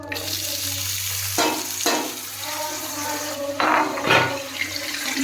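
Carrots and green beans frying in a pan, a steady close sizzle with a few louder bursts of stirring and scraping, no voice over it.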